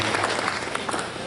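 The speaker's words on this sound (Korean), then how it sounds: "네, 박수 한번 부탁드리겠습니다." An audience at an education talk breaks into applause, a short burst of dense, fairly loud clapping from a room full of people.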